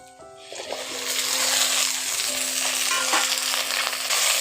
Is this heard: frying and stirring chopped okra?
yes